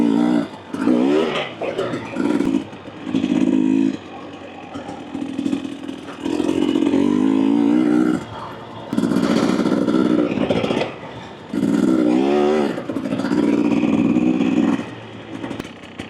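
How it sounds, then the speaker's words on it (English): A 2024 Husqvarna TE250 TBI two-stroke dirt bike fitted with an FMF Turbine Core 2.1 exhaust, revving repeatedly in loud, buzzy bursts broken by short drops in throttle, ridden up close. "I don't really notice a difference in the sound of the exhaust."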